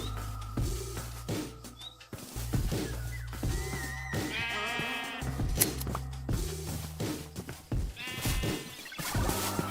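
Repeated sheep bleats from Minecraft, several short wavering calls spaced irregularly over a steady in-game background, fairly close and clear with no talk.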